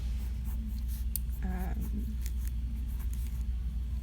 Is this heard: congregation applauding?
no